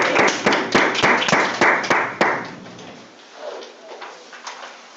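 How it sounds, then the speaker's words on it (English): Several sharp, distinct claps ring out at a school board meeting, a quick series of near, loud hand claps for about two seconds, followed by quieter room noise and faint murmuring. "Big clap."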